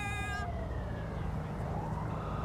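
An ambulance siren in the LSPDFR police mod for a driving video game, a wailing tone sweeping up and down, loud and continuous against steady engine and traffic noise.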